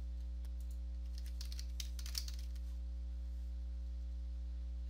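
Faint keystrokes on a computer keyboard as a search is typed into the Windows start menu, a short burst of soft clicks near the middle over a steady electrical hum.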